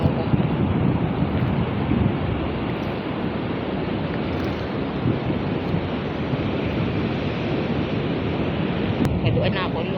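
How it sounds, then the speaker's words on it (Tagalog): Rough sea surf rolls and crashes continuously on a windy coast, a loud broadband roar mixed with wind buffeting the microphone and brief faint voices near the end. "Ang alon ho."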